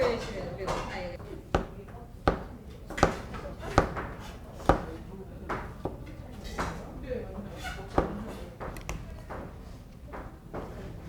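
A knife taps sharply against a cutting board in irregular chops, spaced a second or so apart, slicing button mushrooms and onion while a person talks quietly nearby.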